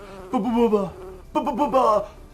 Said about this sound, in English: he hears a faint buzzing sound